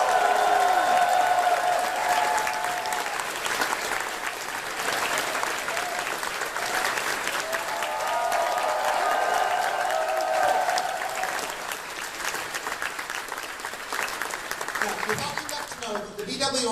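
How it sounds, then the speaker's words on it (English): A convention closing-ceremony audience claps and cheers steadily for over fifteen seconds, loud and sustained, with a few voices mixed in before it fades at the end. "Big round of applause, please."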